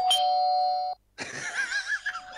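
A two-tone ding-dong doorbell rings clearly once, followed after a short gap by a voice talking.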